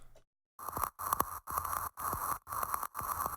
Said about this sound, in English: So this actually comes from the noise oscillator.